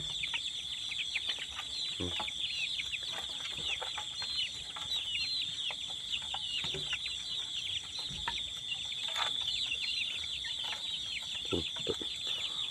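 Chickens cluck and chatter continuously nearby, with scattered sharper calls over a steady high-pitched background of insects or birds.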